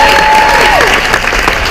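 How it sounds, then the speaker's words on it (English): Dense applause from a crowd on a cruise ship fills a short burst, loud and steady, with a faint tone sounding above it. "Would you give them a round of applause tonight?"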